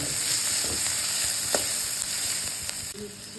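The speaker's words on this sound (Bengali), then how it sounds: "ভালো করে ভাজতে হবে" Leftover rice frying in a pan sizzles with a steady crackling hiss, close and continuous, with a few small clinks of stirring.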